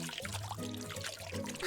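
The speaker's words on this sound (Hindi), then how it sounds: "ओहो, तो चलो अभी उन्हें पानी देते हैं।" Water pours onto plants in a steady, close stream for under two seconds, set against a soft tonal background.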